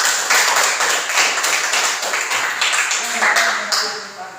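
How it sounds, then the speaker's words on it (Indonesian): Audience clapping after a group presentation in a classroom teacher-training session, a steady dense patter of many hands sustained throughout, with voices murmuring faintly beneath near the end. "kita berikan aplaus tepuk tangan untuk hasil presentasi dari kelompok"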